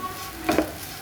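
Dried prawns fry in coconut oil as a spoon stirs them through the pan. A short, soft scrape and sizzle is heard on its own, with no voices.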